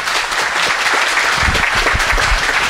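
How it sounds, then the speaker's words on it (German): A crowd applauds steadily throughout, a dense continuous wash of clapping with no pauses. "Einen herzlichen Applaus"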